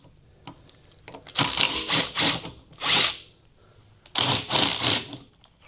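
A power tool spins out the old bar ends on a Kawasaki Ninja ZX-4R motorcycle with a 6mm hex, in three loud close bursts of whirring and rattling separated by brief pauses, no talking.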